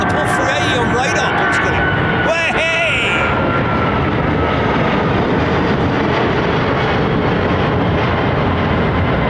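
A freighter jet takes off at London Heathrow, a loud, steady broadband engine roar that fills the whole clip, with people talking briefly near the start.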